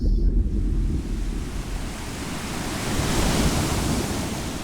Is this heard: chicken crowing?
no